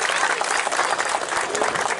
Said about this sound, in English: So I want to give a big round of applause for the kids,